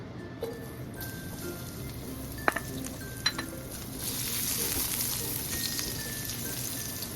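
Chopped garlic hits hot cooking oil in a pan, giving a soft sizzle and crackle with a few sharp clinks of a utensil against the pan, the frying swelling louder toward the end; no talking.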